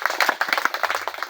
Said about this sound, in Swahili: Hebu tumpigie Mungu makofi mengi.